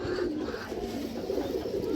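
A large army female giribaz pigeon coos low and steadily throughout, close by, with no voices.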